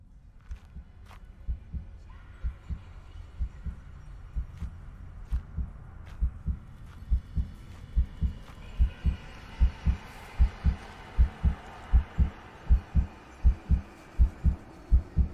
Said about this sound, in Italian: Quindi quando c'è questo battito cardiaco